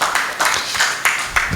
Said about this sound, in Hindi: बहुत बढ़िया, तालियां हो जाए आपके लिए